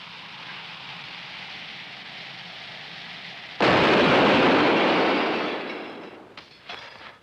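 A low steady rumble gives way to a sudden, loud blast that roars for a couple of seconds, then fades into a few dull thuds.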